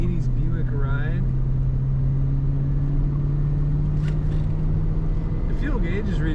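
A 1981 Buick Riviera with a column-shifted automatic cruising along, its engine a smooth steady low hum under road rumble while someone talks over it.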